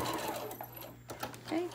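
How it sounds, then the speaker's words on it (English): A sewing machine back stitches a seam on a lunch tote bag, its motor whirring steadily and close. A person talks over it. "I'm gonna back stitch"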